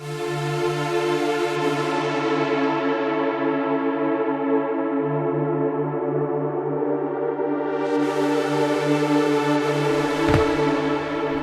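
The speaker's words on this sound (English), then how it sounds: "increase the reverb and lower the filter, it will sound like a pad." A sustained hardstyle synthesizer pad drones with a washy reverb tail, its tone slowly darkening and then brightening again as the filter moves, with a brief low thump near the end.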